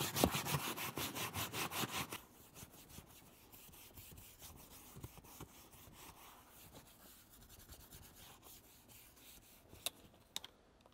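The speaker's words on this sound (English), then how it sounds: "you're going to have to get into the cracks with a little brush." A small brush scrubs the cracks of a car interior, opening with a quick burst of close, rhythmic scratching strokes and then trailing into quieter, sparse brushing and scraping.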